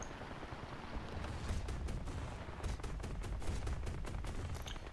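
The nose cannon of a Focke-Wulf 189 fires armor-piercing rounds in War Thunder, producing rapid, repeated bursts of close cannon fire over a continuous low engine drone.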